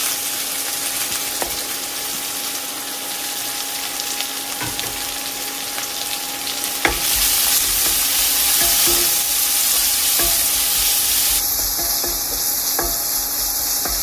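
Crushed garlic, ginger and shallots fry in hot oil in a pan with dried red chillies, a steady close sizzle that swells louder midway, with occasional stirring clicks.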